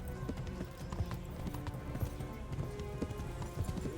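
Horse hooves clip-clop steadily in a medieval role-playing game set in Bohemia, a rhythmic run of close, moderately loud hoofbeats mixed with in-game ambience and background noise.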